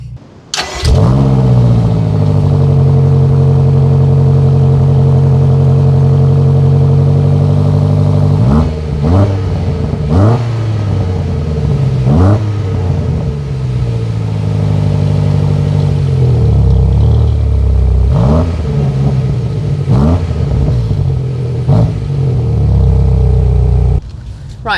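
A BMW M8 engine starting with a loud bark, then settling into idle and revving repeatedly in sharp blips, close and dominant throughout.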